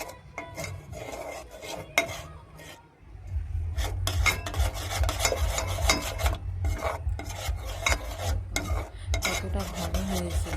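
A thickening sweet mixture stirred in a pan, a continuous close rasping scrape of the spoon against the metal bottom, repeated rubbing strokes with faint clinks, no talking.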